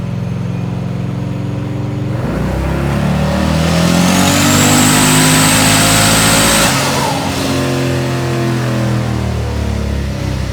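A twin-turbo 6.0-litre LS engine running hard on a dyno at 18 pounds of boost, its loud steady roar sweeping up in pitch through a pull, with a rising turbo whine, then easing back down.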